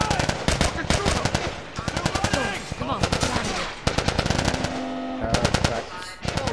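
Rapid automatic gunfire bursts in The Last of Us video game, loud and near, firing in repeated volleys across the whole stretch while a voice shouts between shots.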